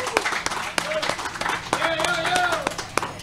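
An audience claps at a village award ceremony, a brisk burst of scattered claps heard close, mixed with voices talking and calling out over the applause.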